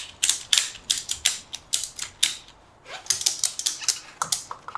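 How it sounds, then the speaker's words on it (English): Quick rapid ratchet clicks come from a socket on an extension as fork bolts are torqued down on a Yamaha Super Ténéré motorcycle fork, in close bursts with a short pause in the middle. "And we'll gently torque these down."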